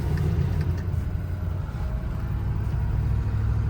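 A 2006 Ford F350 Lariat with a 6.0 Powerstroke diesel and low mileage idles with a steady, deep, close rumble that continues without a break.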